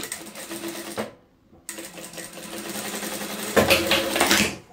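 Sewing machine backstitching fabric scraps for a table runner: a steady close mechanical whir that pauses briefly, then resumes and speeds up toward the end.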